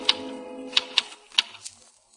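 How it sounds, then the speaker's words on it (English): Typewriter keys in a radio drama strike in a sparse, irregular run of about five sharp clicks over a faint background hum, fairly close and moderately loud. "he stares at the wall, then hunches over the typewriter again"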